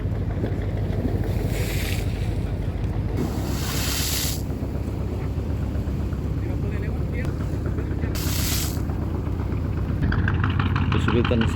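Heavy waves surging at a ship dock in strong currents where a vessel cannot berth. A steady, rough roar runs throughout, with gusts of wind buffeting the microphone.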